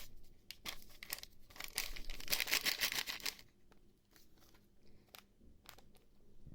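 Dry shredded coconut pours and rustles from crinkly plastic packets into a bowl, a soft hissing trickle with packaging crackle, close up and quiet.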